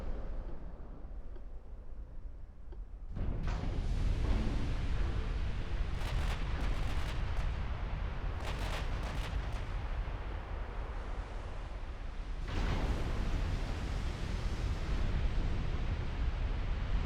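Torpedoes strike in a 1955 naval warfare strategy game, setting off a heavy, roaring blast that swells into a sustained rumble. A second large burst follows several seconds later, and no voices are heard.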